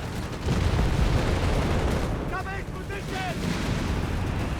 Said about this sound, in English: Shots flying in all manner of directions.